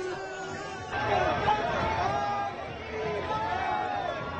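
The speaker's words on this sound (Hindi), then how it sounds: "भीड़ इतनी ज्यादा है" A dense crowd at a BJP election road show with the chief minister and candidate Arun Govil produces a steady murmur of many voices and chatter outdoors, loud and continuous, with someone narrating over it.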